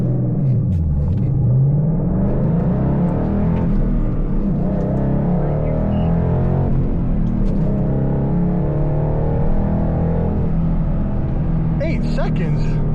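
A 12-year-old Ford Mustang GT accelerating hard through a 0–60 run, a steady loud engine rumble and rising whir that runs the full length, with voices talking over it inside the car.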